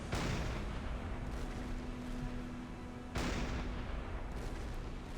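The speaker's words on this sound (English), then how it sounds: "you can try and hit me with your anti-aircraft guns" Anti-aircraft guns firing at a submarine in the Silent Hunter 5 game, with two heavy blasts a few seconds apart over a dense, continuous rumble of distant gunfire at sea.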